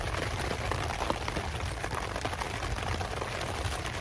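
First rains falling at Tsodilo in Botswana, a dense steady patter of drops on surfaces, continuous and fairly loud, with no voices.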